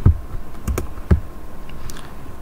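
A few soft, close keystrokes tap on a computer keyboard while entering a number, with three distinct presses early and fainter clicks afterward.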